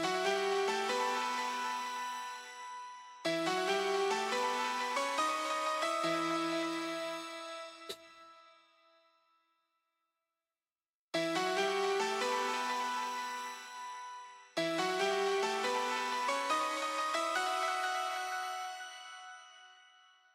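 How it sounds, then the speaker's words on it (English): A dark, hypnotic layered hook melody on piano and synth for a track, played alone in two long phrases with sustained decaying notes and a brief silent gap between them. "piano synth, which is kind of the main hook"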